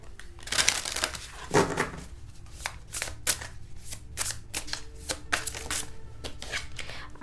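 Tarot cards being shuffled by hand, a run of crisp papery riffles and slaps in irregular bursts, close and fairly loud, with no talking.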